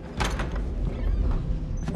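A door slides or swings open with a mechanical rattle, close and fairly loud, the sound continuing for about two seconds.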